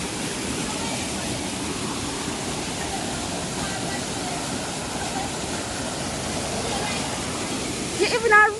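Tall Cascade waterfall near Holywell, Jamaica, reached by walking through a river: a steady, loud broadband rush of falling water fills the whole stretch, with a brief louder splash or clatter near the end and no talk.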